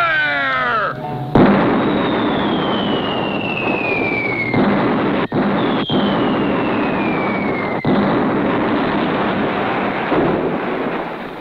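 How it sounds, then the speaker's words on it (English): Cannon fire in a cartoon pirate adventure: loud, booming blasts crack out one after another, leaving a dense rumbling roar with descending whistles over roughly eleven seconds, no voices. "Clutch and Company hit with cannon fire."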